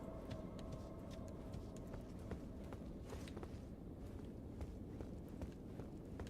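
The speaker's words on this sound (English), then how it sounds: "I heard footsteps again." Footsteps thud steadily through a quiet Elden Ring dungeon, a regular walking rhythm of soft, low impacts heard faintly and alone, with no voices.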